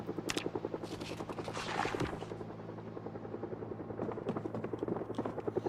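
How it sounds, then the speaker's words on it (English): Rhythmic thudding of a helicopter's rotor fills the scene in Project Zomboid, with bursts of gunfire crackling over it. "There's the helicopter."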